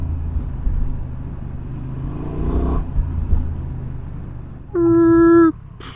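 A Honda Transalp 750 motorcycle ridden off-road on dirt and sand, its engine a low rumbling drone that swells and eases, followed by a brief steady whining tone near the end.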